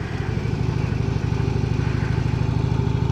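A 2015 Harley-Davidson Road Glide Special cruises in sixth gear, its V-twin engine a steady, loud, throbbing rumble with a constant even pulse and no voices.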